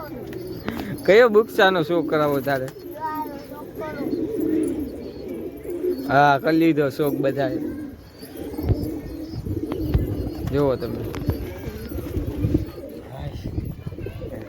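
Pigeons, including newly acquired border-breed birds kept in a loft, coo in low rolling phrases through the clip, mixed with other bird calls while people talk loudly over and between them nearby.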